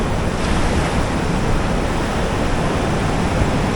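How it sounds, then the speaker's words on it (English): Powerful ocean surf pounding the shore at Puerto Escondido, a dense continuous roar of breaking waves, loud and close with no pauses, mixed with wind buffeting the microphone. "these waves are immense"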